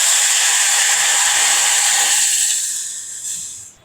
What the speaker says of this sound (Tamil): இப்போ இதில் 1 கப்பு தண்ணி சேர்க்குறேன்.